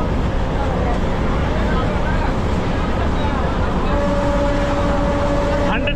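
Train at Chaparmukh Junction bound for Guwahati, a loud continuous rumble and roar of rolling stock heard from on board, with a steady tonal hum emerging near the end amid background chatter.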